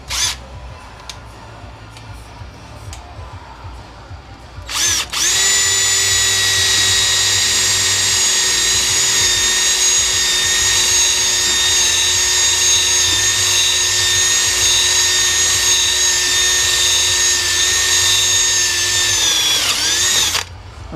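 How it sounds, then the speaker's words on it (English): A power drill bores into a Honda ATV brake caliper being scrapped, whining loudly and steadily for about fifteen seconds after a short start, close to the mic and with no talking. "I have to get my good drill out because I broke my"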